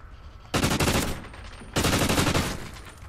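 Two sustained bursts of automatic gunfire in the Warhawk video game, loud and dense, each lasting about a second with a rapid rattling texture, the second burst slightly longer.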